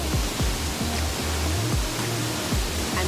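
Burwison Falls on Mt Romelo, a steady broadband roar of falling water, close and continuous, with no talk.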